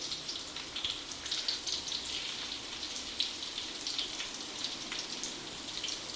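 Food frying in a pan with salt added, a steady soft hiss of sizzling oil running evenly throughout, no talk.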